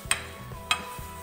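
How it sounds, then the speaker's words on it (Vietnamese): Fried pork hock goes into a cooking pot with two sharp metallic clanks and a softer knock, set against a faint background hum and no speech. "Bây giờ chúng ta sẽ cho chân giò đã chiên qua vào cái nồi nhé."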